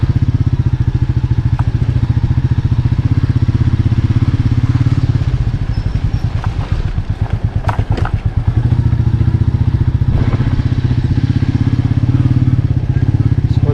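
A 2020 Royal Enfield Meteor 350 BS6 with its 348cc single-cylinder engine runs steadily up close, a loud, continuous low thumping idle with a brief burst of clatter and revving partway through, and no talk over it.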